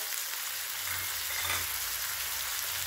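Asafoetida, ginger and curry leaves frying in oil while being stirred for a Tamil kuzhambu, a dense, even hiss of sizzling with a soft low stir in the middle.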